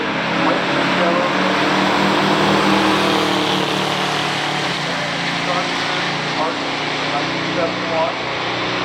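A 1969 Mercury Cougar and a 1971 Dodge Charger R/T with a 4-barrel carburetor drag racing: a steady, dense wash of engine roar and crowd-like noise at a loud, even level throughout, with no distinct launches or gear changes standing out.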